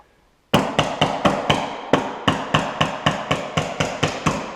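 A hammer strikes a metal chisel in a steady, even rhythm, driving it under cabinet trim, about a dozen loud, sharp taps close by after a brief silence.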